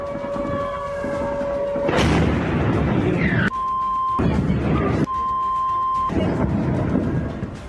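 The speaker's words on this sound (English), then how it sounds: "Videos have appeared online where you can hear bursts of gunfire and explosions" Loud gunfire bursts and booming explosions near a pier mixed with a wailing siren tone, with rumbling noise filling the scene throughout.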